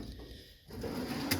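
A tool drawer in a workshop slides open with a short rolling rumble, ending in a small clack, heard up close.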